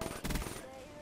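Short bursts of rapid video game gunfire, fairly faint, a rattling volley in the first half that then fades into a steady background hum.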